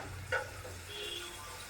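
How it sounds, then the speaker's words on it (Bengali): Onions frying in a pan in a home kitchen give a faint, steady sizzle with a brief clatter near the start, and no one speaks. "তো আমি পেঁয়াজটা একটু ভাজি হতে দিচ্ছি,"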